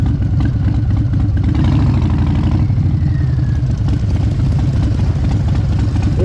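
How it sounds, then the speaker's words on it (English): A Harley-Davidson Fat Bob's Milwaukee-Eight V-twin, fitted with a Screaming Eagle 117, idles nearby in a steady low rumble with mechanical clatter throughout, no talking. "I'm a huge fan of the new Milwaukee-Eight engine though."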